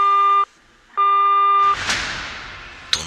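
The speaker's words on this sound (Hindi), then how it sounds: "उसी वक्त दोनों का फोन एक साथ बजा और स्क्रीन पर लिखा था, धवल कॉलिंग।" A phone rings with two electronic tonal bursts separated by a brief pause, followed by a softer noisy rustle and a short click.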